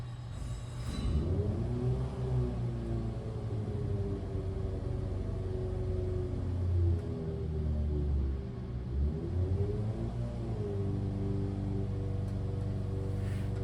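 A Formula Atlantic race car engine on a dyno revs up in two rising sweeps, holding loud, close, steady pitch between pulls over a deep rumble.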